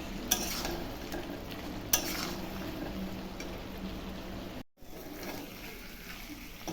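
Chicken curry meat being stir-fried kosha-style in a pan, with a steady background sizzle and a few sharp spatula scrapes and knocks, close and moderately loud, with a brief dropout midway.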